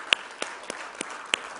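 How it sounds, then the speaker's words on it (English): A small audience claps for dancers at a Unity of Boulder service, a thin, scattered applause with a handful of distinct sharp claps spaced across a short burst. "Let's give them a round of applause."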